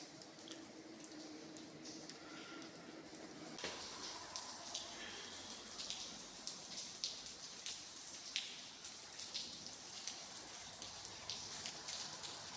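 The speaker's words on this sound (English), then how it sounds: "You can hear the rain seeping in." Rain seeps into a brick-lined railway tunnel, dripping and pattering irregularly in the enclosed space, scattered soft taps over a steady hiss, faint and echoey.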